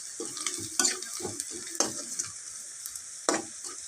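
Onions fry in a pan until crisp and browned for a hilsa dish, giving a constant bright hiss broken by quick clacks and scrapes of a stirring spoon.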